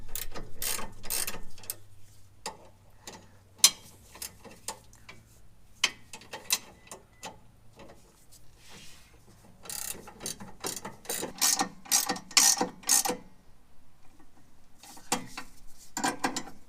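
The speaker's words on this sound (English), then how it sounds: "Let's tighten these up. They are 44 pounds on all 4 nuts." Ratchet wrench tightening the rear end link nuts on a Mazda 5, bursts of rapid close mechanical clicking broken by pauses and repositioning, louder flurries near the end, with no talk.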